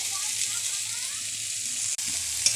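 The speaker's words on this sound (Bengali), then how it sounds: "ভালো করে নেড়ে ভেজে নিচ্ছি" Cauliflower, carrot and potato pieces fry with turmeric and salt, a steady close sizzle broken by one brief stirring knock near the end and no talk.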